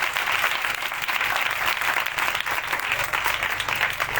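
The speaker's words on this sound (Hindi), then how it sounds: "जोर से ताली बजाएं यीशु के जलाल के लिए" Congregation at a live Praise & Worship gathering in Layari, Karachi, clapping loudly and steadily, a dense close roar of hands that holds without a break from start to end.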